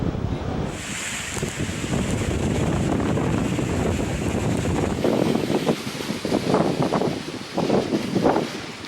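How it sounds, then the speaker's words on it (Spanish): Strong wind and pounding surf whipped up by a frontal storm system bringing wind, rain and swells to the coast; a steady roaring gust with broad crashing wave bursts growing louder in the second half. "una combinación de viento, lluvia y marejadas"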